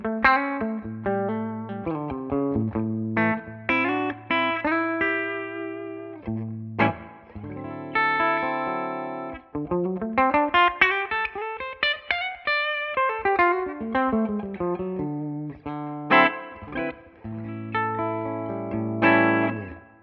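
Clean electric guitar tone from a Gibson 330 hollow-body on its bridge pickup through a Tonex amp capture, playing a steady stream of chords and single-note runs with light reverb, loud and alone.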